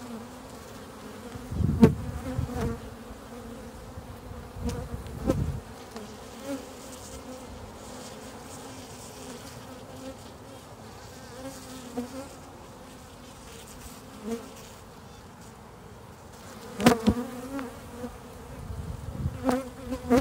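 Honey bees buzzing and fanning at a hive entrance with newly introduced queens, a low continuous drone with individual bees buzzing close past at intervals.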